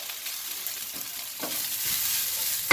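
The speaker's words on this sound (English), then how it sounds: "So we are binding all this ginger and garlic, all this beautiful oil." Ginger and garlic fry in a small amount of oil, giving a steady close bright sizzle broken by a few sharp scraping strokes of stirring, the loudest near the end, with no talking.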